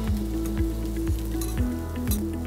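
Food sizzles steadily in a pan in a restaurant kitchen while a utensil stirs and scrapes it in a regular rhythm, close and continuous, with no talking.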